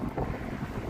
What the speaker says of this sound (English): We got some wind, so hey, we're finally living up to the Windy City moniker there.